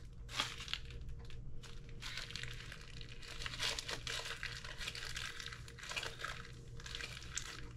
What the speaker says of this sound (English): Then I'm gonna close up my bag like that.